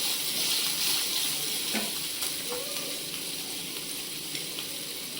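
Chicken pieces sizzling steadily in a hot pan with chili powder, a dense continuous frying hiss with occasional faint stirring scrapes, close and even throughout with no talking.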